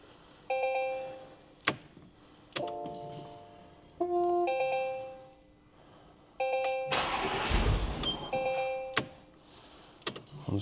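A rebuilt Porsche Macan engine cranks in a loud burst of about a second near the middle, surrounded by repeated electronic dashboard chimes ringing before and after.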